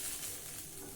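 Dosa batter sizzling and frying in oil on a hot pan, a steady close crackling hiss filling the whole second with no voices.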